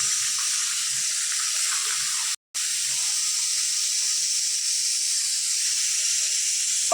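Water hitting a hot frying pan with a chili-powder and salt seasoning gives off a loud, steady hiss that runs unbroken for seconds, with one brief dropout partway through and no talking.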